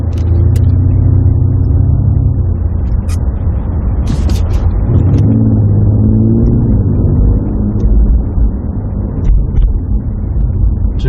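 A BMW M760Li xDrive engine roars steadily at close range, its pitch climbing and dropping as it accelerates, with brief sharp clicks over the continuous rumble.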